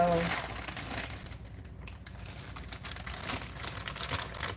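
A plastic bag of frozen corn crinkles and rustles steadily for several seconds, close up, in a continuous crackling texture.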